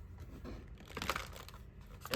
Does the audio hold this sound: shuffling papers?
yes